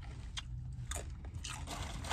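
Crisp crunching bites into a hard El Pollo Loco birria taco shell, several loud crunches close up with short pauses between them.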